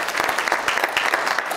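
Audience applause fills a chamber of commerce legislative breakfast, a steady dense patter of many hands clapping throughout, fairly loud and close with no talk over it.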